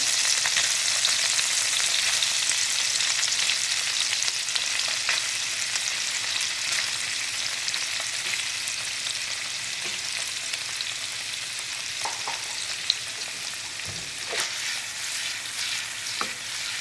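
Paneer pieces frying in hot oil in a pan, a steady loud sizzle throughout with occasional utensil clinks and pops, no talk.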